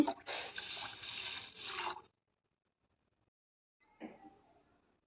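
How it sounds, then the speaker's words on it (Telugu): Tamarind water pours steadily into a pot for about two seconds, followed by silence and then a short splash. "చింతపండు వాటర్ పోసుకోవాలి"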